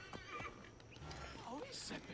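A horse in Assassin's Creed Origins gives a short whinny over soft hoof clip-clop and quiet game ambience, with speech mixed in.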